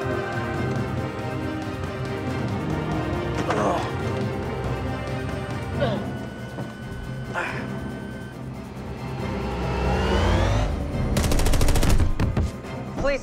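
Gunfire in a tense, scored action scene with a police pursuit, sharp shots cracking over a dense music score and engine-like drone, with voices talking throughout.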